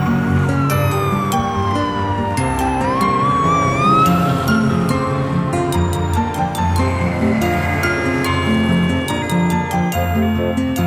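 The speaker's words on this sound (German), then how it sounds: "Polizeiauto." A cartoon police car from a children's toy-vehicle animation sounds its siren, a wailing tone that sweeps up and down over busy background music and sound effects, loud and continuous.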